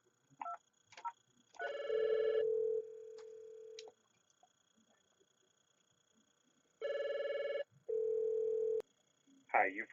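Telephone tones from a desk phone calling into a voicemail system: short dial-tone bursts and beeps, a sustained steady tone, then two more long tone bursts with brief gaps, clear and close.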